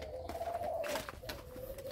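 Pet doves kept in pairs coo repeatedly at close range, soft rolling low calls over a background of faint chirps and ambient noise, with no talking.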